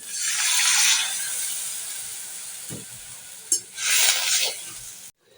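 Water poured into a hot frying pan of onions and ginger-garlic paste, a loud hissing burst of steam that fades, then a clatter and a second hiss before it cuts off.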